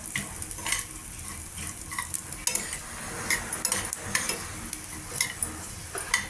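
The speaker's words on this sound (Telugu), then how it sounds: "జీలకర్ర కొద్దిగా వేయించుకోవాలి ఇలాగా బ్రౌన్ కలర్ వచ్చేదాకా" Cumin seeds fry in a little oil in a pan, a continuous light crackle and sizzle broken by repeated scraping and tapping as a utensil stirs them; no voices.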